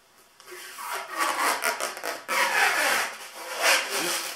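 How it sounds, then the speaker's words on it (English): Crackling, stretchy rubbing of stretch wrap plastic film being pulled tight around thin lumber boards, in repeated close strokes. "I'm going to use this stretch wrap to run a tight wrap around the boards"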